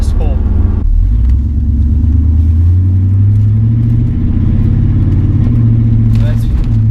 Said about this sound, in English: So yeah, that's with the exhaust open.